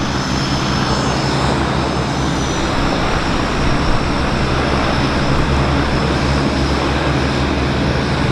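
Propeller aircraft at Vancouver airport, a loud steady engine drone with a throbbing low hum that stays constant throughout, alone and close.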